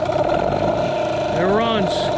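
An outboard motor with a worn-out impeller and no water coming out runs with a steady droning hum, while someone talks over it.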